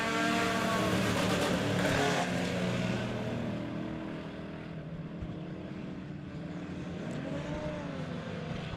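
Stock race cars at Monett Motor Speedway pull away on a green-flag restart, a loud blend of engine roars fading slightly as the field moves off down the track.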